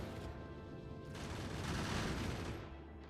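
Gun turrets in the Factorio video game fire yellow ammo as a dense continuous rattle of automatic shots, loud and sustained, swelling slightly mid-burst before easing off.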